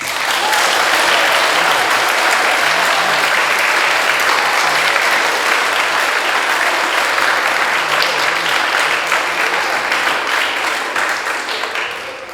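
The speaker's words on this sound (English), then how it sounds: "So a round of applause." Dense, sustained applause from an audience at a house music competition, a steady wash of many hands clapping for about twelve seconds before tapering slightly at the end.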